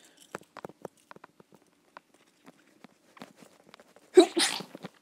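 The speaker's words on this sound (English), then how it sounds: "I'm sneezing" A single sharp human sneeze bursts out near the end, close and fairly loud, after a stretch of quiet, scattered soft taps and shuffles in a classroom-like room.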